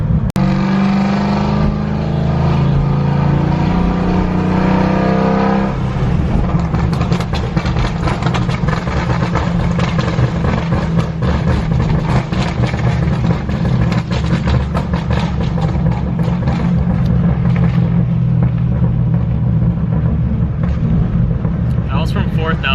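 A car with a popcorn exhaust tune accelerates hard in third gear from 4,000 RPM. The engine note climbs loudly and close, then breaks into a sustained roar with rapid crackling pops from the exhaust.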